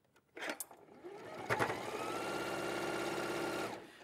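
Sewing machine stitching fabric for a cushion, a short start-stop burst and then a steady continuous mechanical whirr of rapid needle strokes, close and fairly loud, ending abruptly.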